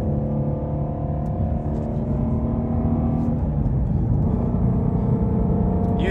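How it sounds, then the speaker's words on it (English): A Shelby GT350R fitted with a K&N air filter, running in sport mode, gives a steady, close, deep engine and exhaust rumble with faint intake suction on top, continuous and unbroken throughout. "You hear a little bit of intake noise from the K&N air filter, just a little bit of that beautiful sucking sound"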